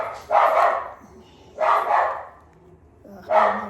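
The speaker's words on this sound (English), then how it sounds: "he's barking at something out there" A dog barks three times in short bursts, spaced about a second apart, moderately loud with quiet gaps between.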